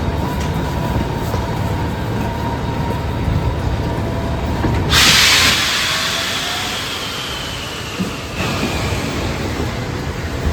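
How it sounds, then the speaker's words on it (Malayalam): Swiss train bound for Zermatt standing at a station platform, a steady broadband rumble and hiss of idling machinery with a brief louder whoosh midway, no talk. "ഇതാണ് നമ്മുടെ ട്രെയിൻ."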